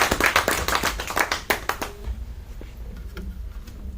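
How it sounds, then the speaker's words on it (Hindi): A small audience at a library talk claps for a presenter, a cluster of sharp, close hand claps that fades out after about two seconds into quiet room noise. "तो एक बार शर्मा जी के लिए हम तालियां तो।"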